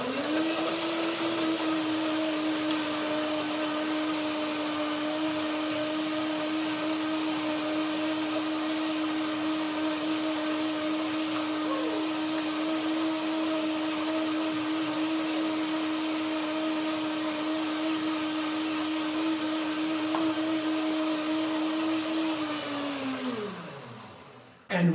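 A blender runs steadily, whirring a cashew, banana and lemon dressing for a papaya dish; the motor hum holds loud and even for over twenty seconds, then winds down at the end.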